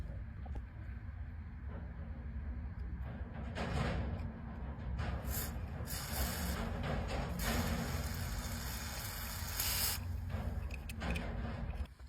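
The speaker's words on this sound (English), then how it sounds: "spray a little bit of lubricant there on the threads" Aerosol lubricant sprayed onto the rear brake adjuster threads of a BMW Z4 during a disc job, heard as several short hissing bursts over a low steady background hum, close and faint.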